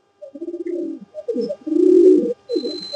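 Pigeons coo nearby in a run of soft, rounded, throaty calls, some short and repeated, one longer and swelling, with brief pauses between, clear against a quiet background.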